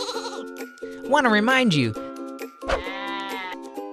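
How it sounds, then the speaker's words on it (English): Sheep bleat loudly and repeatedly, with one long wavering cry and another sustained bleat, heard alongside a person speaking. "Heartwise Ministries and these adorable sheep"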